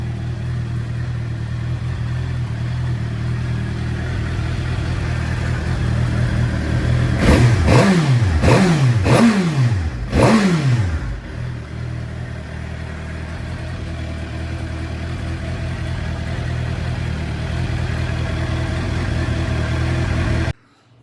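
A Suzuki GSXR750 sport motorcycle, just started on a boosted weak battery, idles steadily, then gets four or five sharp rising throttle revs in quick succession before settling back to a loud, even idle.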